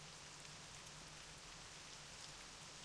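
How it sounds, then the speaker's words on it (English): Steady rain falling at night in Classic World of Warcraft, an even, continuous hiss of rain with no breaks or voices. "It's a rainy day. Well, rainy night, actually."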